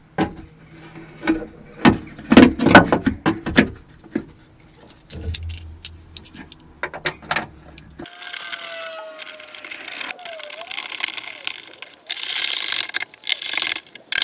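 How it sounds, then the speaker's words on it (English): Metal clicks, clunks and ratcheting as the tailgate catch on a 1999–2007 Skoda Fabia Mk1 is refitted, followed by the rising and falling whir of a power tool in short bursts, close up with no talking. "Refitting the catch, it simply slots back into place."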